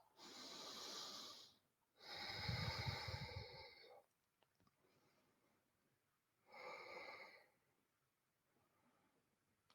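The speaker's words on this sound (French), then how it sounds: "Et on prend 3 respirations avec le ventre." Slow, deep belly breaths during a hatha yoga session, three long airy inhales and exhales separated by quiet pauses, close and soft.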